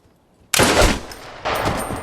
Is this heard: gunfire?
yes